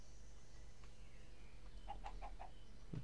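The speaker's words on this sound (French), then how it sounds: "Nous avons trois poules dedans?" Chickens cluck in Minecraft's Agrarian Skies 2 modpack, a quick run of four or five short harmonic clucks near the end over a low steady hum.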